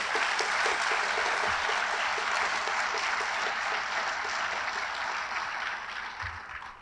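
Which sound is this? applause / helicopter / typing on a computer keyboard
applause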